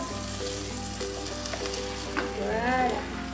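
Beans tumble into a pan of frying chorizo, onions and chili, giving a steady close sizzle, with a voice and some tonal sounds running underneath.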